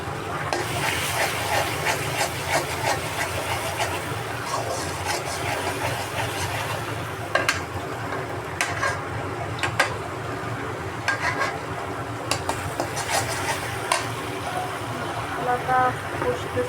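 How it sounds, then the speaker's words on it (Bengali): Spice masala sautéing in a pan with red chilli powder, a steady sizzling hiss broken by repeated scraping clicks of a spoon against the pan; a voice speaks over it. "মশলাটা কষতেছে।"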